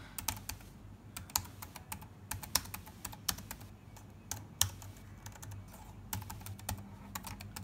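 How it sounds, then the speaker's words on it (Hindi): Steady typing on an Apple Magic Keyboard paired with an iPad, a rapid run of crisp key clicks with irregular rhythm, close and clear over a low background hum, with no voices. "अब मैं कुछ भी टाइप कर सकता हूँ, ये सीधा स्क्रीन पे डिस्प्ले करेगा"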